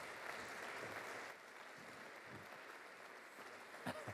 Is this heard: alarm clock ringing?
no